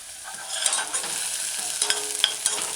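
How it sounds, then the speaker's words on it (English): Onion and scallion sautéing in a pan with a steady close sizzle, broken by a few light stirring clicks and scrapes, with no talking. "such as the onion and the scallion along with the mashed garlic to saute"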